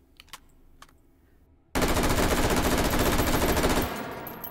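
An M4A1 short-barrel carbine in the H3VR virtual reality shooter fires a long, rapid full-auto burst, loud and continuous for about two seconds, after a few faint clicks of handling.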